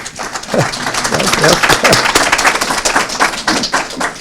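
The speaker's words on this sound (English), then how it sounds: "she deserves all the applause, believe me" Audience at a high school graduation ceremony applauding, a loud dense wash of many hands clapping that builds quickly and holds steadily throughout.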